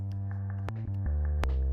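A gritty synth bass run through Logic Pro distortion and chorus holds low buzzing notes, changing pitch a few times with harsh overtones.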